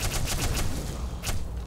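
Rapid bursts of gunfire from the first-person shooter game Black Mesa hit an alien, a dense, loud crackle of shots in quick succession, with a separate burst near the end.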